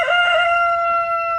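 A rooster crows loudly and close by in one long sustained call, with no one talking over it.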